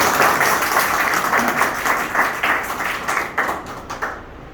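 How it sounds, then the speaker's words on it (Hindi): An audience claps together at a business seminar on Dubai taxi driver jobs, a dense, sustained round of applause that carries on for several seconds before thinning out near the end. "ताली मारो इस पर"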